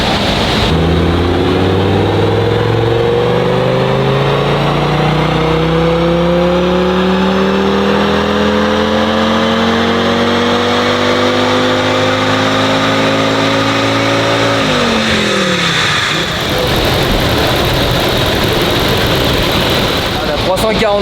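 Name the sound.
Audi S6 engine revving on a dyno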